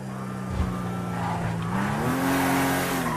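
Car engine with rising pitch and tire squeal in the GTA V NoPixel roleplay server, an electric car fitted with a turbo, a steady revving tone climbing over a couple of seconds, loud and close with no talk.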